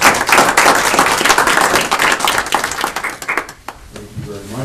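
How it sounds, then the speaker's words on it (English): A school board meeting audience claps loudly and steadily for a girls' basketball player of the year, the applause thinning out toward the end as a voice begins speaking. "I'd like to have a little round of applause for that."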